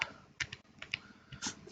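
Computer keyboard typing close by: irregular clusters of light key clicks in quick bursts with short pauses, quiet and alone without any voice.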